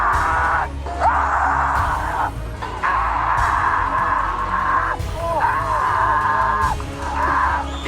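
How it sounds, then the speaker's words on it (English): A strongman lets out a loud, sustained yell while holding a champagne-bottle hold at a competition, the strained roar rising and breaking in repeated bursts over a constant crowd and arena din. "Nothing theatrical about that yell."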